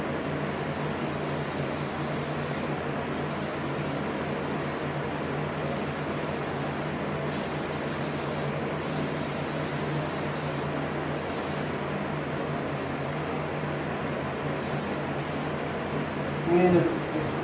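An airbrush sprays paint onto a rainbow trout being finished for taxidermy, a steady close hiss broken by brief pauses and restarts over a low background hum, with a short knock near the end.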